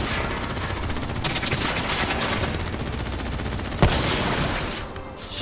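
Dense, continuous gunfire fills a Call of Duty Black Ops 3 firefight, loud and sustained with rapid overlapping shots and one sharper crack near the end.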